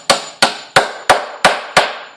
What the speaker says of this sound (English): nailing jack studs to the top